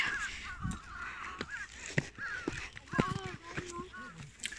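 Several crows caw repeatedly in a garden, their harsh calls overlapping at moderate distance, while people talk quietly nearby.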